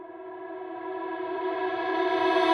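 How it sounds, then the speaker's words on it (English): A swelling reverse reverb effect on a deep house vocal, a tonal harmonic wash that builds steadily louder for about two and a half seconds, then cuts off abruptly at its peak. No voices are heard. "now after that, I have my reverse reverbs."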